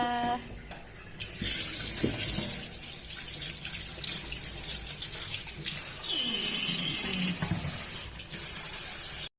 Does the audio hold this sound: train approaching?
no